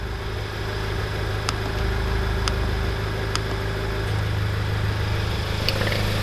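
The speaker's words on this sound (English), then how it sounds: "Now I'm going to let you guys listen to the idle" Steady, even idle of a Honda Civic Type R running a catless downpipe, front pipe and exhaust with the valve fully closed, recorded from about 15 feet away, a low constant rumble with a few faint ticks.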